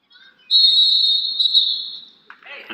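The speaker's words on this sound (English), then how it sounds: "And the whistle is blown" A referee's whistle at a college wrestling dual meet gives one long, sustained shrill blast of about one and a half seconds, loud and close, with crowd noise and a voice rising at the end.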